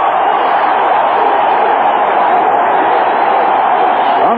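A baseball stadium crowd at a 1980s Mets at Astros playoff game, a steady, loud roar of cheering and murmur held at an even level throughout, heard as through an old radio broadcast.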